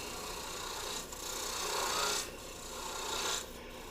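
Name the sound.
spindle gouge cutting soft wood on a lathe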